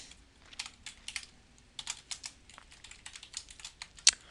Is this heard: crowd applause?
no